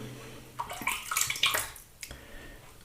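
Water splashes and trickles in irregular bursts as more is added while lathering shaving soap, close by and fairly soft.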